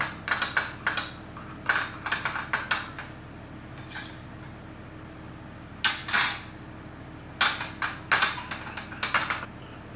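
A spoon mixes a teaspoon of milk into a paste for a homemade facial hair removal mask, producing clusters of close, quick clinks and taps against a small bowl, separated by brief pauses over a faint steady background hum.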